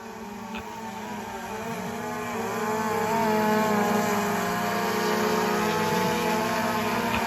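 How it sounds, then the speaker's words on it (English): A DJI drone fitted with a float attachment flies with a steady, droning propeller whir that swells slightly louder partway through and holds close and continuous, with no talking. "so we got the drone to lift off the ground and fly around pretty good"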